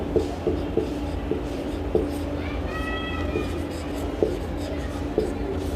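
Handwriting during a current-affairs lesson: a few short scratchy pen strokes and taps, close and moderately loud, over a steady low hum, with a brief tonal squeak partway through.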